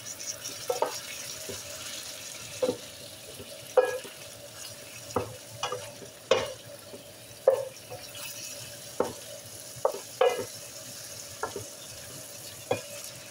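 Peas, carrots and edamame stir-frying in a skillet for chicken fried rice, a steady soft sizzle broken by a dozen or so sharp scraping clacks of a utensil against the pan at irregular intervals.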